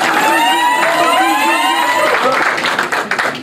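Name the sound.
guests applauding and cheering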